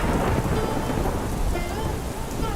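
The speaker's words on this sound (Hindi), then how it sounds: "बारिश और तेज हो गई थी। दूर कहीं बिजली भी कड़की।" Heavy rain pours down steadily through a village night while thunder rumbles in the distance, a dense, loud wash of drumming drops with low rolling booms underneath and no voices.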